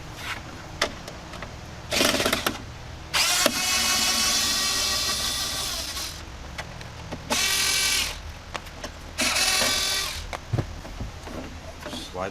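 A power tool backs Phillips screws out of an HVAC box on a 2005 Kenworth W900L truck, running in several whirring bursts of one to three seconds, close and loud, separated by pauses with clicks and handling noise.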